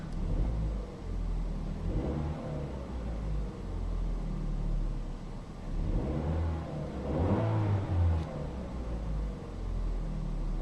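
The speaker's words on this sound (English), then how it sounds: "when I hit the gas, of course the revs are going to go up" A car engine revs up twice as the gas is pressed, rising and falling in pitch from a low idle rumble, moderately loud and close.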